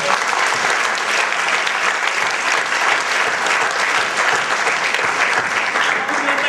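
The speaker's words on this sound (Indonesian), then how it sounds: "Tepuk tangan dulu buat semua." Sustained, dense applause from a seminar audience at a financial recognition event, loud and continuous throughout with no pauses, many hands clapping together near the listener.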